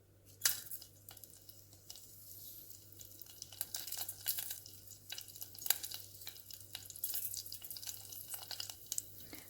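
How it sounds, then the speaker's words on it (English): Mustard seeds, cumin seeds, curry leaves and dried red chilies crackle in a tablespoon of hot sunflower oil, a faint, scattered pattern of small pops and sizzles over a low hum. "Heat a tablespoon of sunflower oil and add mustard seeds, cumin seeds, curry leaves, and the dried red chilies."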